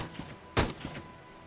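Gunfire during an ambush in a video game, a single sharp loud shot standing out amid quieter muffled pops and background ambience.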